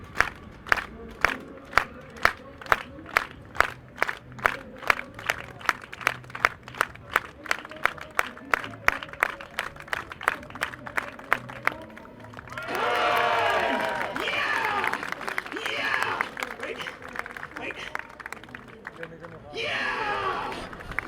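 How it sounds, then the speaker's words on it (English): A street-performance crowd at Amsterdam Central train station claps in a steady unison rhythm, sharp regular beats, then breaks into loud cheering and whooping with a performer's voice mixed in. "Okay, everyone, clap."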